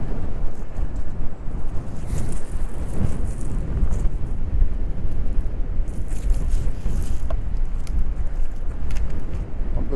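Wind gusts across a beach during a winter sea fishing competition, a loud, steady rushing buffet on the microphone with low rumbling swells and occasional stronger bursts.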